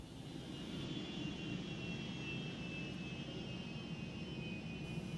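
A jet aircraft takes off for an airshow display at RAF Waddington, a steady, moderately distant roar with a sustained high whine, continuous throughout with no voices.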